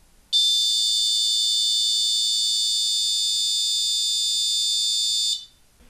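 Arduino-driven buzzer sounding one continuous high-pitched electronic tone for about five seconds, loud and steady, then cutting off into near silence.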